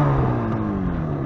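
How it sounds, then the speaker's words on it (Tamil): A fully restored Yamaha RD350 two-stroke motorcycle exhaust drones with a steady, buzzy note that sags slightly in pitch, close and fairly loud. "எக்ஸாஸ்ட் நோட் கேளுங்க."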